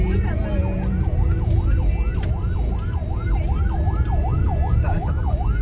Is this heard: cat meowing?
no